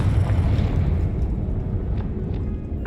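A Confringo fire spell blasts in Hogwarts Legacy, a heavy, rumbling explosion with a deep roar that rolls on and slowly fades, joined by a few fainter crackles.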